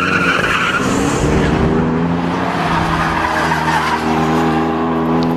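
A Subaru Impreza at speed on the Nürburgring, loud and sustained, with tires squealing and skidding over a droning engine for several seconds.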